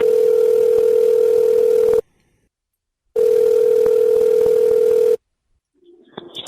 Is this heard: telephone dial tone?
yes